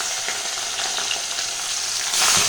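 Pieces of katla fish sizzle loudly in hot oil in a pan, a close, crackling fry that flares up louder near the end.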